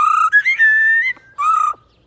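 A talking parrot whistles a short tune of clear, sliding notes, pauses briefly, then adds one more held whistle.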